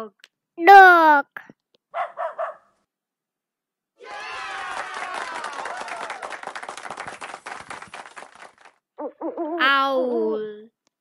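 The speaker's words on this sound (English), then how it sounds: "Owl. Owl." Short tonal calls, then a long stretch of rapid noisy bursts, and another wavering hoot-like cry at the end; loud and close, with no talking.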